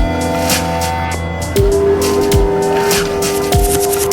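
A car drifting lets out long, high tire squeals that start abruptly and hold steady over a loud, rising engine roar, with short skids repeating at intervals.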